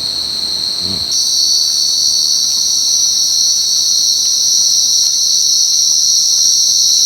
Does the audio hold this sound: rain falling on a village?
no